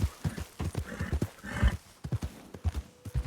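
A horse named Red in a Western video game clip-clops along a high ledge, its hooves beating a quick uneven rhythm close by as it gives a nervous whinny partway through.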